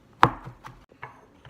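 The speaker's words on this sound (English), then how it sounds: "you want to mince this up finely, little tiny pieces" A kitchen knife minces wonton filling finely on a cutting board, landing a few sharp close chops with a loud first strike and quieter taps spaced after it.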